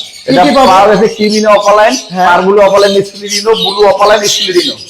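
High-mutation lovebirds chirp at a lovebird farm in Bangladesh, with busy close chatter running under and between loud nearby talk.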